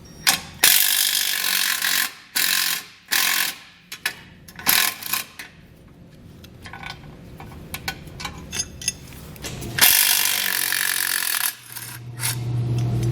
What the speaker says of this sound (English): So what we're going to do is remove the 16mm bolt.